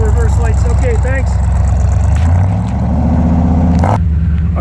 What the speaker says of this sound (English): Can you drop that idle down a little bit?